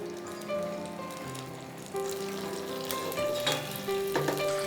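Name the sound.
cumin and mustard seeds sizzling in hot oil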